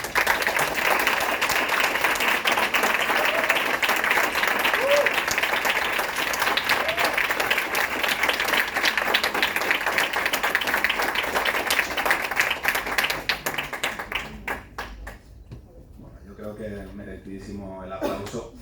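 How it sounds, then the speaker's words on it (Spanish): Sustained applause from a university lecture audience in Valencia follows a speaker at a talk by sex workers, dense and steady for most of the stretch before thinning out near the end, with a voice briefly heard over it. "Merecidísimo el aplauso"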